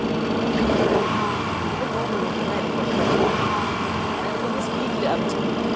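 A 2022 Audi RS7 Vorsprung Edition engine runs at a steady idle, a continuous low rumble with slight swells, fairly close.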